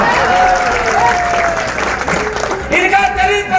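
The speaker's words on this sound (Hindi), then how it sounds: "जोरदार ताली बजाओ" Crowd at a farmers' leader's political rally applauding loudly and steadily, with a voice carrying over the clapping throughout.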